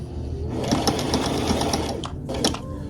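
A sewing machine runs steadily in reverse to lock the thread while sewing a prom dress, a close, continuous rapid needle chatter with a brief pause and restart near the end.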